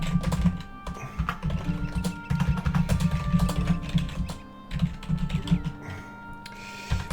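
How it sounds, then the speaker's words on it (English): Steady clacking of keys on a computer keyboard, close and distinct, in quick irregular bursts with brief pauses, no speech over it. "I'll try to type it at least."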